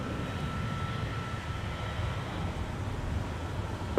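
An Airbus A321neo airliner arriving at Minneapolis–St. Paul Airport gives a steady, broad engine roar at moderate distance, with a faint whine running through it and no pauses.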